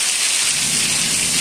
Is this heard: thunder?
yes